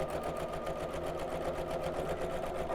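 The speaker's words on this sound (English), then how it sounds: "I'm going to lengthen the stitch on my sewing machine" A close, steady whir of a sewing machine running continuously, top stitching a longer stitch just above a seam on a fabric shopping tote, with an even rapid needle rhythm throughout.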